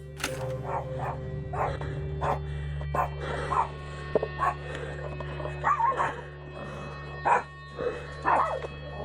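A small dog barks repeatedly in short yappy bursts near a trailer, irregular and fairly close, with a steady electrical hum underneath and occasional whimpering yips between barks.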